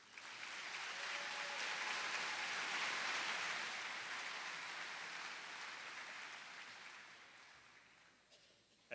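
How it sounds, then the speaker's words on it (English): Steady applause from a large audience at a 2013 high school commencement in Port Huron, swelling to a full sustained roar before gradually thinning and tapering off near the end. "One more round of applause, please."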